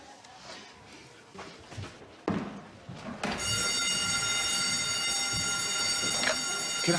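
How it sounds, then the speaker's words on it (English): A hotel fire alarm starts abruptly and rings loud and continuous with a harsh buzzing tone, after a few knocks and thuds, with faint voices beforehand. "The fire alarm's gone off."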